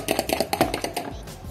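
Three egg yolks are whisked in a bowl, giving quick, close, rhythmic taps that fade out near the end.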